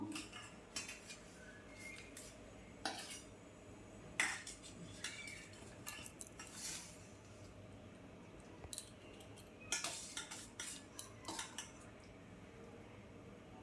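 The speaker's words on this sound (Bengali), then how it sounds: "এই যে কড়াটা বসাবো।" Metal cookware clanks and scrapes on a stove in a home kitchen as a kadai is set down for cooking jackfruit with prawns, a few sharp knocks and clatters scattered over a steady low hum, with no talking.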